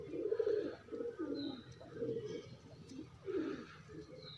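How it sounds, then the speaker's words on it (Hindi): Pigeons cooing near a wall where they nest, a series of soft, throaty coos repeated in uneven bursts, close by and moderately loud with no talk. "बाकी सारे कबूतर ये घूम रहे हैं।"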